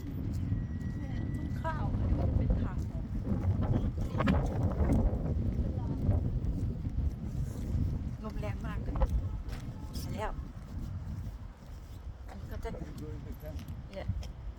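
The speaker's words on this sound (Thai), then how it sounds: "พอเวลาเปิดหมวกนะลมแรงมาก" Strong wind gusts buffet the microphone outdoors beside a rice field in Belgium, a heavy rumbling roar throughout while people talk and a light rustle comes and goes.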